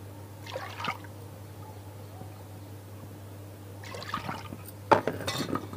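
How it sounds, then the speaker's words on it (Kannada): Water is poured onto washed lentils in a pot while making bisi bele bath, coming as a few short, soft splashing bursts separated by quiet pauses, with no voices. "ಈ ಬೇಳೆ ಎಷ್ಟು ತೊಗೊಂಡಿದ್ದೀನೋ ಅದರಲ್ಲಿ 3 ಪ್ರಮಾಣ ನೀರು ಹಾಕ್ತಾ ಇದ್ದೀನಿ"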